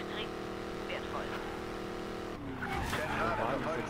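A silver Koenigsegg Regera hypercar in Need for Speed Payback drives with a steady engine drone, then surges with a tire-scrubbing rush near the end, while a radio voice talks over it.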